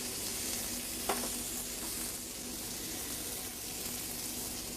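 Onions sizzle in blended or olive oil in a pan, a soft steady crackling hiss at low level, with a single brief clink near the start.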